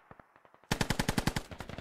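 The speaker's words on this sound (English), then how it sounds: "Militia are now opening up on Matt Bob's fire team." Militia gunfire in the military shooter Squad: faint distant shots give way to a loud, rapid stream of about a dozen close automatic rounds in a steady rhythm.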